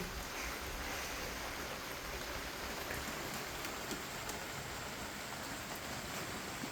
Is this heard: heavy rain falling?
yes